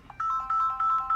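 A telephone rings in a live call-in broadcast, sounding a rapid repeating electronic ringtone of short bright pulses over a faint background.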